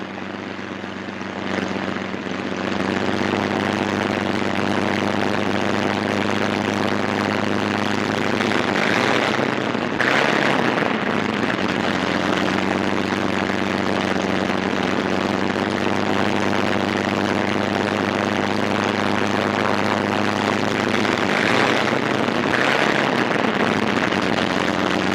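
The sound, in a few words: P-47 Thunderbolt fighter plane taxiing on airfield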